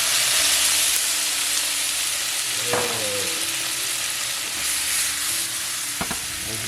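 A T-bone steak sizzles in a pan with Worcestershire sauce, giving a steady, loud frying hiss throughout with a few brief clinks and scrapes.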